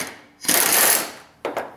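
A/C condenser bolts on a Pontiac Torrent / Chevrolet Equinox are zipped out with an impact wrench: one sustained buzzing burst of about half a second, then two short rattling bursts, close and loud with no talk.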